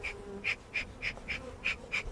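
Honeybees buzz during a hive inspection, pulsing in a steady series of about seven close, bright bursts over a low continuous hum, with no talk.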